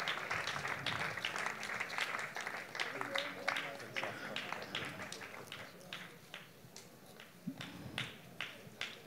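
An evangelical church congregation claps in welcome for guests, steady overlapping applause with a quick rhythm that fades a little toward the end, under someone speaking.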